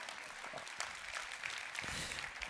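Audience applause at a French talk on self-confidence, a brief burst of clapping from a crowd, fairly distant and even, with no voices over it.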